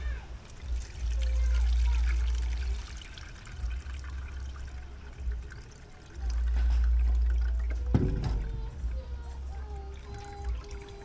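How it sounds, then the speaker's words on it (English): Water strained off boiled dumplings and bananas outdoors, poured and trickling in two sustained splashing runs with a clatter between them, near and fairly loud. "Alright, so now we are going to strain it off"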